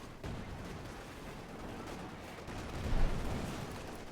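Tank gunfire in the strategy game Company of Heroes 2, with Panzers firing in battle: a dense, rumbling barrage of distant shots and blasts, low in level and swelling near the end, with no voices.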